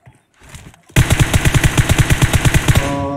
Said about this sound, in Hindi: और ये फायरिंग हुआ